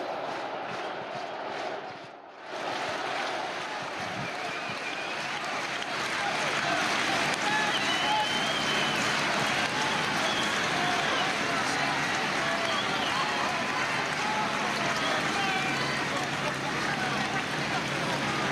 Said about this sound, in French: Écoutez cette foule qui scande le nom de Johnny alors que le cortège arrive sur la place